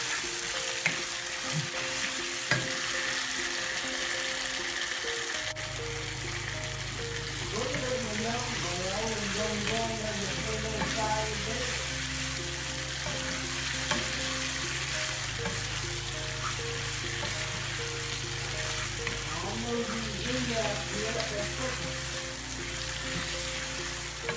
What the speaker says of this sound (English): now we're just gonna let this here fry just a little bit more